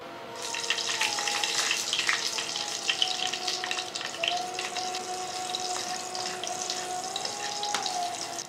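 Nigella seeds and slit green chillies frying in hot mustard oil give a steady, close sizzle with running-water and clattering sounds over a low hum, no talk.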